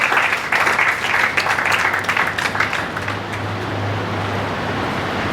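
An audience in a hall claps loudly for a few seconds at a Teacher's Day celebration in Karol Bagh, Delhi, before the applause thins into a steady background hum.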